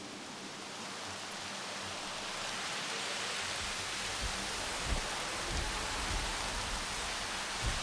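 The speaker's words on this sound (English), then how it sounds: "It's raining again." Rain falls in the Jurassic World Evolution video game, a dense, steady hiss of downpour with soft low patters, continuous and even throughout with no voices over it.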